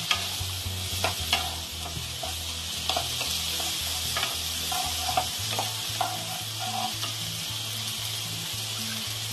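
Ingredients for Kolkata street-style chicken soup stirred together in a hot pan, steady frying sizzle with scattered scraping clicks of the spoon against the pan over a low background hum, no talking.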